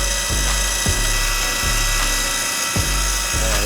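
A rotary tool polishing a stone ring, a loud steady high whine with low rhythmic ticks and periodic grinding contacts as the piece is worked, continuous and close.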